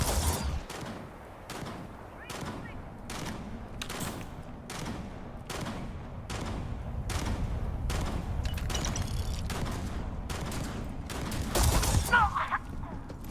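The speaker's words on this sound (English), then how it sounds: "Gunshots are closer." Repeated gunshots in Starfield: Shattered Space, a steady run of sharp cracks, roughly one or two a second, with a rumbling background and a heavier burst near the end.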